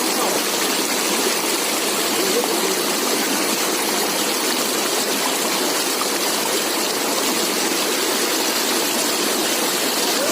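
Curug Panetean, a waterfall in Cisireum, Pancatengah, pours in a dense, loud, unbroken roar of rushing water that fills the whole scene without pause.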